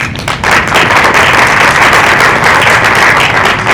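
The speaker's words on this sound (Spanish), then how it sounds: "la recibimos con fuerte voto de aplausos" Sustained applause from an audience at a formal ceremony, loud and steady, a dense wash of clapping that continues without a break and with no speech over it.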